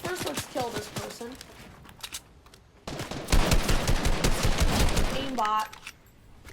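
Rapid bursts of gunfire in the video game Fortnite, dense repeated shots filling the middle of the clip, with a voice talking before and after.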